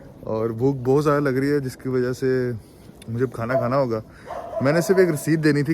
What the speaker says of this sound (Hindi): कुत्ता भौंक रहा है किसी पे